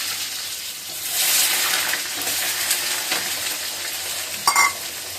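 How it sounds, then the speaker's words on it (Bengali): Potatoes dropped into hot oil with bay leaf, dried chilli and popping panch phoron, giving a steady broadband sizzle with a louder surge early on and a brief sharper crackle near the end, no talking. "পাঁচফোড়ন ফুটে উঠছে, আলুগুলো ছেড়ে দিলাম"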